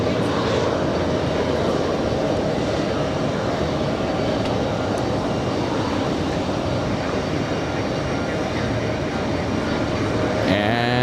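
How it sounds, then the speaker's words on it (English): An American Airlines Boeing 777 takes off from runway 31 left at JFK, a loud continuous engine roar rumbling steadily throughout, with a faint rising tone near the end. "And there goes the American 777"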